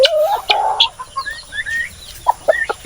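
A hen clucks on a small Philippine farm, a series of short, bright clucks and rising calls spread across a few seconds, fairly close and clear with no talking.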